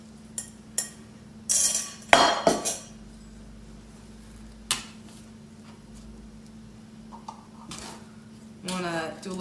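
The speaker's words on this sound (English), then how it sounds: "You want to now put the dry ingredients in with the wet ingredients and then incorporate everything together" Dry ingredients being stirred into wet banana muffin batter in a bowl, with scattered utensil clinks and scrapes against the bowl between quiet pauses, close by.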